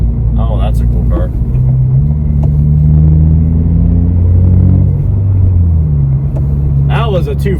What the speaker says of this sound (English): That was a really modified car.